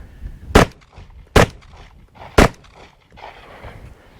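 Gun fired with a red-dot sight, three loud, evenly spaced single shots at close range, each with a short echo, followed by faint movement noise.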